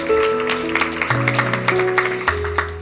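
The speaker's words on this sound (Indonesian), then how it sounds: "Kita beri tepuk tangan untuk kebenaran ini." A church congregation claps during a service, with sharp, fairly regular hand claps over sustained keyboard or organ chords that shift pitch underneath.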